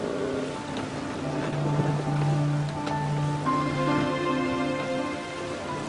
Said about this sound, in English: you can hear the swish of the water along the hull